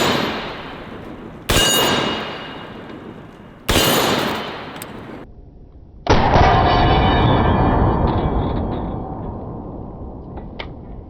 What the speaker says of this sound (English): that might be the hardest impact I've ever seen on the yellow gong